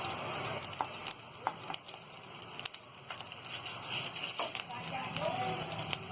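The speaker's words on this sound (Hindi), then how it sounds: "अब इसमें हम 1 चम्मच से थोड़ा सा ज्यादा तेल डालेंगे। इसके बाद ये अदरक को डाल देंगे।" Ginger sizzling in a little hot oil in a kadhai on a gas stove while making veg momos: a steady, moderately loud crackling fry with scattered sharper pops and a few utensil clicks, no talk.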